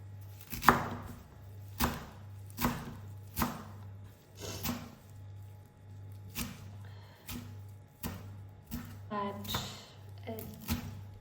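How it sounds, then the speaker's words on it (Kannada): A knife chops fresh coriander on a board for mutton soup, striking in a steady series of sharp, close thuds about once a second, with a low electrical hum running underneath. "ಕೋರಿಯಾಂಡರ್ ಕಟ್ ಮಾಡಿಕೊಳ್ಳುವ."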